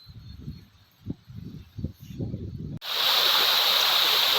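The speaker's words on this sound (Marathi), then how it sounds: "आमच्या शेताच्या खालून एक नदी आहे" Rushing river below farm fields, swollen after heavy rain, first heard faintly under scattered low rumbles and handling noise, then a loud, steady broadband roar of flowing water taking over abruptly and continuing close by.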